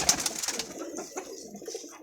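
Pigeons for sale give soft, low coos at close range, with faint chirps and the rustle of birds moving nearby.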